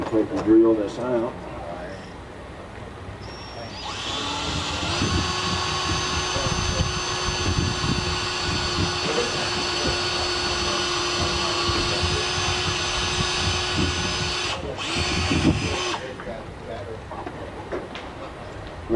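A power drill fitted with a number 14 bit runs at a steady high-pitched whine for about ten seconds while working on a trap, then stops, with surrounding workshop noise before and after.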